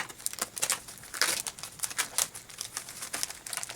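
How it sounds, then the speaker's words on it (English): A plastic package from a Stampin' Up Paper Pumpkin craft kit crinkles and crackles steadily as it is pulled open, with a close, dense run of sharp rustling bursts and no talking. "Okay, get into this package."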